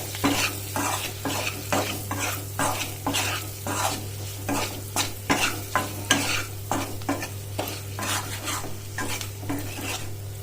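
Masala with turmeric and salt frying for an egg roast while a spoon stirs it in the pan, giving a loud rhythmic series of scraping strokes over a constant sizzle, close up with no speech.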